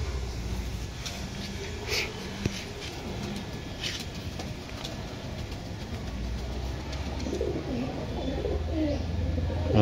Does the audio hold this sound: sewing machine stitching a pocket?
no